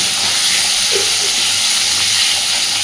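Long-cut washed potatoes frying in hot oil for a Bengali catfish curry, a steady close hiss of sizzling that runs evenly throughout with no talking.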